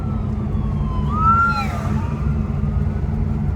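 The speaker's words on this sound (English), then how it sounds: "Oh, that's an ambulance." An ambulance siren sweeps past on the road, its wailing tone rising and falling clearly over the steady rumble of a car interior, loudest midway before fading as it goes by.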